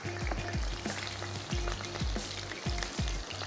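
Sausages frying in a pan, a loud steady sizzle with repeated sharp crackles and pops, close and alone with no voices.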